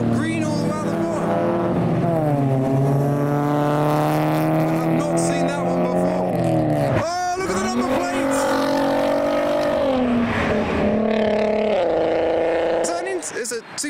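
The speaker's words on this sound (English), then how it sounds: "Supercharged Challenger." A supercharged Dodge Challenger engine roars loudly and steadily at a car show, pitch climbing and dipping as it accelerates, with a voice talking over it.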